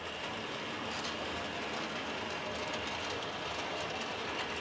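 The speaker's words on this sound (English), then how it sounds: "I'm going to move that train around a little quicker" A small HO-scale model train rolls steadily along its track with a constant whirring hum and faint rhythmic clicking, even and unbroken throughout.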